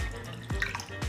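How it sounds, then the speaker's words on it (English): Negroni cocktail poured through a julep strainer, trickling and dripping liquid with a few splashy drops, close and alone. "And so we're gonna pour it in."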